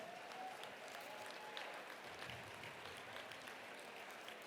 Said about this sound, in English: Let's give all 67 people a big round of applause.